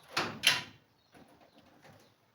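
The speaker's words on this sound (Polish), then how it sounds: "Ale otworzy sobie można szuflady w każdym miejscu, gdzie chwycimy." Drawers of a budget metal tool cabinet slide open, making two sharp metallic clacks close by, followed by fainter scraping and rattling of the runners.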